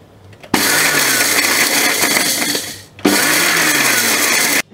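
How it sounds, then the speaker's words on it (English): A mixie mixer grinder pulses sambar ingredients in two loud whirring bursts, each starting abruptly and running a couple of seconds before a brief stop. "put off the stove and put this in the mixie I'm going to pulse it"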